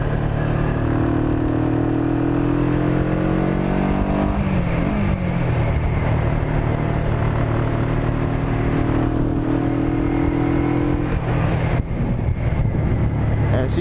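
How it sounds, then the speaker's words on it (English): Kawasaki Vulcan 500 motorcycle engine while riding, a steady loud drone with harmonic pitch rising and falling as the rider shifts through gears, running continuously up close throughout. "I think this thing's got a street bike engine on it"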